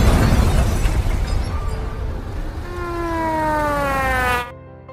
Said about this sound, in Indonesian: roket itu tiba-tiba meledak.